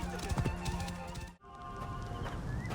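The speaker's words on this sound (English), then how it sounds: "This must be Mered's horse." Horse hooves clip-clopping in Assassin's Creed Origins, a burst of quick hoofbeats in the first second, then a brief drop to silence and a softer stretch of ambient game sound with faint ticks.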